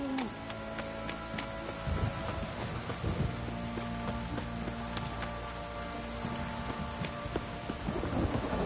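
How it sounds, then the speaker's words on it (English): A steady downpour of heavy rain in The Witcher 3, with low rumbles of thunder rolling underneath and a few sharper crackles, continuous throughout at a moderate level. "If it don't stop raining, my arse will rot off."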